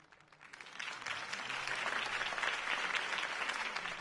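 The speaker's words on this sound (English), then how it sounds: "could have heard that applause" Steady applause from a large crowd in a Batman video game swells and holds, a dense wash of clapping with faint voices mixed in.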